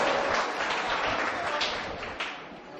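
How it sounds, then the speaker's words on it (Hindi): Sustained audience applause at an Urdu poetry mushaira, a dense wash of many hands clapping that stays steady and loud before tapering slightly toward the end. "जोरदार तालियां हो जाए एक बार।"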